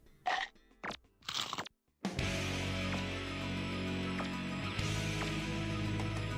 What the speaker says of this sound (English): And it plays one of 3 eating sounds.